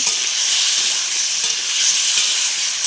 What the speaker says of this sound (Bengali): কড়াইতে তেল দিয়ে দিলাম, যেটা আর আলুটা ভেজে নেব